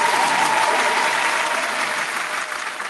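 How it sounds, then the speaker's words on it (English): Dense, steady audience applause fills a radio mixshow artist showcase, loud and close throughout, easing slightly near the end with no speech over it. "Round of applause."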